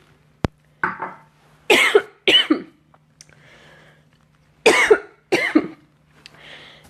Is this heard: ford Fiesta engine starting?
no